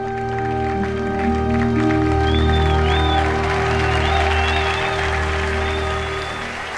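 An audience at a large church gathering claps in sustained applause, an even wash of clapping over held musical tones, with no speech.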